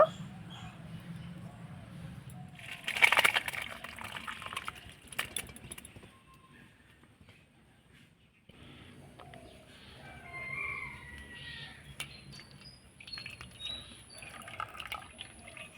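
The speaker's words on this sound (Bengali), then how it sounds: "এবার আমি ছানাটাকে ঢেলে নেব" Vinegar-curdled milk (chhana) poured into a white cotton cloth set over a basin, with whey splashing in a short burst and then trickling and dripping steadily, close by, while a person talks.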